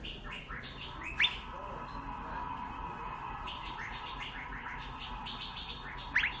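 A cucak gadung bird sings nearby in a quick series of bright, repeated chirping phrases, with two sharper whistled notes, over a soft steady background.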